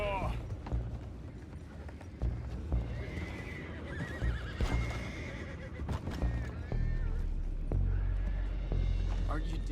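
Horses whinnying and hooves clip-clopping in Red Dead Redemption 2, several loud neighs over scattered hoof beats and game ambience, with characters talking throughout.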